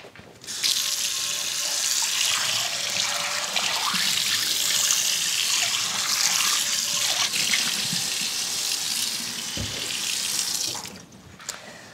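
Tap water runs steadily into a sink while a cast iron pot is rinsed, a continuous hissing splash for about ten seconds before the flow stops.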